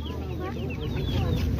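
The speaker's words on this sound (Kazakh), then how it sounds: "Мына қораз екен мынау." Rooster clucking at a poultry market in Shymkent, Kazakhstan, with soft repeated clucks and chirpy calls over a steady crowd murmur and background bustle.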